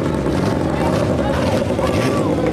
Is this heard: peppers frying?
no